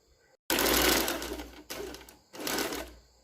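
A sewing machine stitches the corner of a blouse neckline backed with paper canvas, running in three loud, close bursts of rapid whirring that stop and restart briefly.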